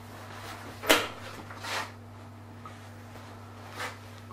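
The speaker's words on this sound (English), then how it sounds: "Opening the oven door." A kitchen oven door opened while baking scones, a short sharp clunk followed by a softer creak over a low steady hum, then a faint thud.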